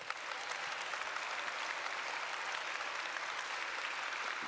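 A church congregation breaks into raucous, passionate applause, a dense and steady wash of clapping that fills the whole stretch without pause.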